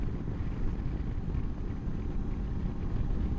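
Steady low buffeting wind roars and rumbles against the microphone while riding a QJMOTOR SRT 600 SX Touring motorcycle with a short windscreen, a continuous dull blast like air rushing past at speed.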